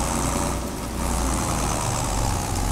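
Tractor engine in Farming Simulator 22 running steadily, a continuous loud idling drone with a heavy low rumble and no talk over it.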